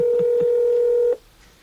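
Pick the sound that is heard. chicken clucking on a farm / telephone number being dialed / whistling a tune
telephone number being dialed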